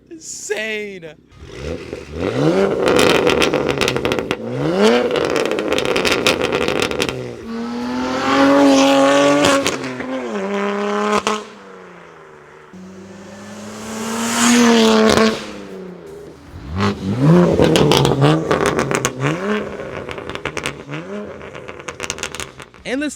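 A BMW M3 with aftermarket downpipes is driven hard, its exhaust revving and rising through gears in several loud surges, dropping back between pulls, with voices talking inside the car over the engine.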